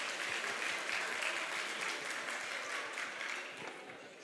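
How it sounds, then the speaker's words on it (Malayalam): Applause from an audience welcoming a guest at an Onam celebration event: a continuous wash of many hands clapping, fairly distant, holding steady before easing slightly at the end. "എല്ലാവരും ഒന്ന് കൈയടിച്ച്."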